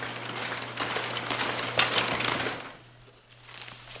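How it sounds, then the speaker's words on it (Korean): An apple sorting machine runs in an orchard packing shed, giving a steady mechanical whir with a low constant hum and busy clatter, with a sharp clack midway and the noise easing off near the end. "선별 과정은 기계의 힘을 빌리죠"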